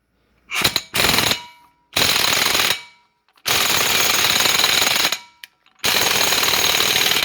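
Power tool with a 36 mm socket loosening a wheel hub bolt on a 2007 Chevy Suburban during hub bearing replacement, loud close bursts of rattling impact hammering in four long runs with short pauses between.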